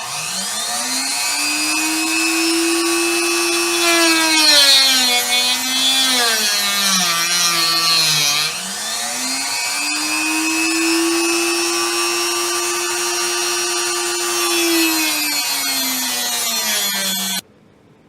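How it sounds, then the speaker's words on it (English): Bench-mounted rotary tool with an abrasive wheel cutting banjo fret wire, a loud continuous high whine that dips in pitch as the wheel loads up, then recovers and runs steady before stopping abruptly. "using my rotary tool that I have mounted in this holder I've made. I cut it off with this. This is just an abrasive wheel"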